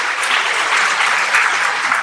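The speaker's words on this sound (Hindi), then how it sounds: "जोरदार तालियां आप सब लोगों की होनी चाहिए" Loud, sustained applause from an audience at a state-level ceremony for International Girl Child Day, honouring daughters, with dense steady clapping throughout and no voices on top.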